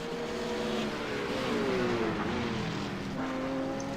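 Racing cars lap Twin Ring Motegi in a GT simulator racing game, with a continuous close engine drone whose pitch rises and falls as the cars accelerate and shift, steady and loud throughout with no talking.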